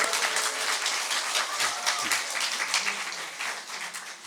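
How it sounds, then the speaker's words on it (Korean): A church congregation gives a round of encouraging applause during a sermon, sustained and even clapping heard from a moderate distance, softer than the room's earlier speech, carrying on for several seconds without any voices. "우리 지원이에게 큰 격려의 박수 보내주시면 감사하겠습니다."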